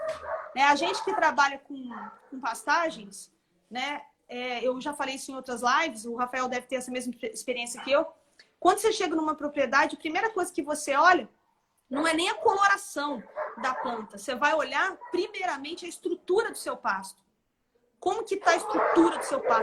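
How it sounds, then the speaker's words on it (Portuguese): Several dogs barking inside a house, sharp yips and barks mixed in and partly masked by someone speaking steadily close to the microphone throughout. "Gente, desculpa pelos cachorros, tá? É porque tem cachorro demais aqui em casa."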